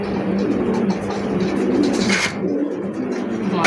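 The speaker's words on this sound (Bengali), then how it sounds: "মাশাআল্লাহ দেখার মতো একজোড়া পাকিস্তানি গিরিবাজ হাই ফ্লাইট" A pair of Pakistani Giribaz high-flying pigeons coo softly under a constant rumbling background hum, with a few faint higher chirps toward the end.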